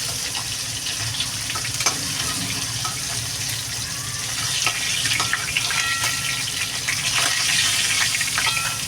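Hilsa fish and potatoes frying lightly in oil give a steady, moderate sizzle and crackle throughout, with faint stirring and clinking close by and no talking.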